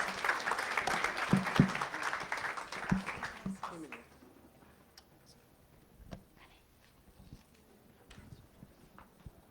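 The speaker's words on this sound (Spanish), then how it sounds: "Y le recibimos con un fuerte aplauso a Janet Yaja." An audience at a project closing event on violence against women applauds to welcome a speaker, a few seconds of lively clapping that fades out, followed by quieter room sounds and a few footsteps.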